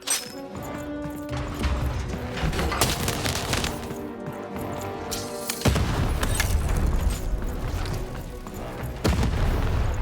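Cannon fire in the video game Lost in Random, heard as several heavy booming blasts at intervals over a dense, busy game soundtrack.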